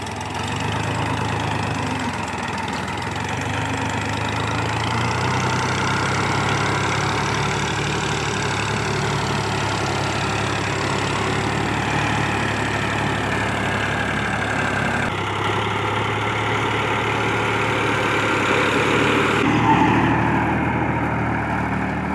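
A Fiat 480 tractor engine idles steadily for a long stretch, a continuous low diesel rumble with a faint knocking rhythm, close and unchanging, with no speech.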